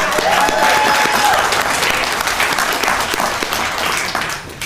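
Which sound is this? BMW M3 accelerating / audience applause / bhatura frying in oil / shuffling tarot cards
audience applause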